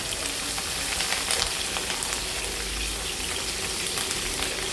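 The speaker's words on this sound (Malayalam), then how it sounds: "അതിന് വേണ്ടിയിട്ടാണ് നമ്മളിത് ആദ്യം ഇങ്ങനെ എണ്ണയിലൊന്ന് വറുത്തിട്ട് കോരി മാറ്റുന്നത്" Vegetables and shrimp for a prawn biryani frying in hot oil, a steady dense sizzle with light crackling spread evenly throughout, close and continuous with no talking.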